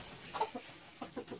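A mother hen that ran off from her chicks gives a few short, soft clucks in brief separate bursts, fairly close and with no voices over them.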